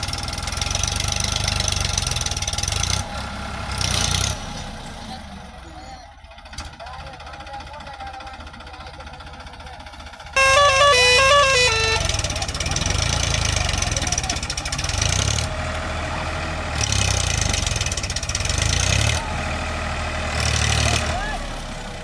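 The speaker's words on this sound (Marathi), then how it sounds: "आमची गाडी फसली या जाग्यात रिकामीच आहे तिला वडाय आता ट्रॅक्टर आणलं" A tractor engine runs steadily as it is brought in to pull a stuck, empty sugarcane truck on a rural track, a loud continuous rumble with revving swells and a brief dip, while people talk over it.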